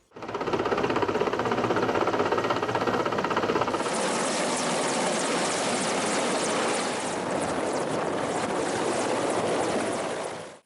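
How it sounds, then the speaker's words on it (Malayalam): A helicopter carrying the President lands, its loud, close rotor chop and engine whine filling the scene continuously, the tone shifting midway as it descends. "രാവിലെ എട്ട് മുപ്പതിന് രാഷ്ട്രപതിയുമായി ഹെലികോപ്റ്റർ ഇറങ്ങി"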